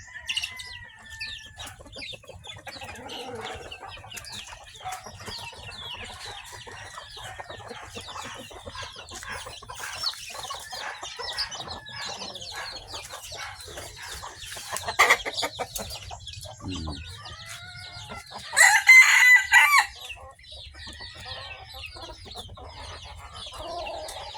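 Asil roosters and other chickens on a small farm: continuous clucking and chatter, with a loud crow rising near the end, heard outdoors at moderate distance and without speech.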